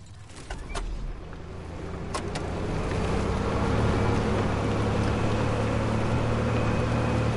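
A vehicle driving in Fortnite: a steady, broad engine and road rumble builds over the first few seconds and then holds loud and continuous, with a few brief clicks near the start.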